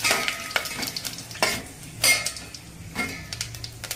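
Spices and bay leaves for mutton biryani stirred in a pot with light sizzling, several distinct scrapes and clinks of a metal spoon against the pan, close and fairly quiet with no talking.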